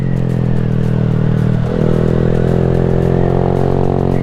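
A motorcycle rides through a turn on a twisty mountain road, its engine droning steadily up close with a brief dip and shift in pitch partway through before pulling on loudly.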